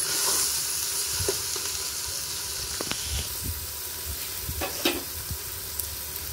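Tomato is stirred into a frying goat leg paya curry, a continuous close sizzle and hiss punctuated by irregular scrapes and taps of the spoon in the pan.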